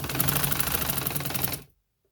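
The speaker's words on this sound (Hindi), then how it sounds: "यहाँ इसके ऊपर मैं सिलाई लगाने लगी हूँ।" A sewing machine stitches lace onto a garment sleeve in a steady rapid mechanical rattle, running continuously at close range for about a second and a half before stopping abruptly into silence.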